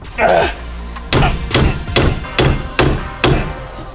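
A slide hammer pulls the steering wheel off an offroad Humvee build, landing six loud, sharp metallic impacts at a steady rhythm of roughly one every half second, close up, after a brief voice at the start.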